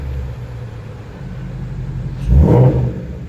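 A 2018 Ford GT350 engine idles with a steady low rumble, then gives one short, louder rev that swells and falls back, recorded close by.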